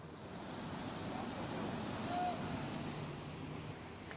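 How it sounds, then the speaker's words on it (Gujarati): Floodwater from the Falkudi river in Kalavad rushes over a bridge after heavy rain, a constant broad roar of moving water with wind buffeting, fairly faint and steady throughout. "પૂરના પાણી પુલ પરથી પણ પસાર થતા આપ જોઈ રહ્યા છો।"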